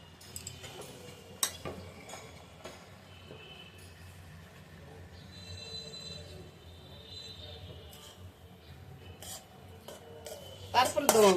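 Pilau rice is spooned over a coffee-coloured layer in a pot, giving scattered clinks of a spoon on metal and soft scraping under a steady background hum, with a louder clatter at the very end. No one speaks.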